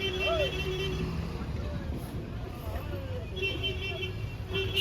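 Steady low rumble of a bus riding through road traffic, with a faint horn toot and passing vehicle noise throughout.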